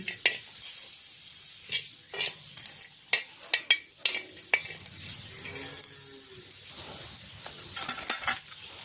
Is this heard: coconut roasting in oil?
yes